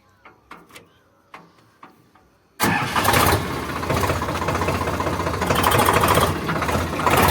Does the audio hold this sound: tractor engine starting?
yes